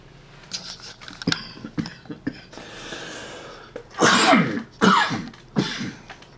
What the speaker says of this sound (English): And that's a whooping cough for you.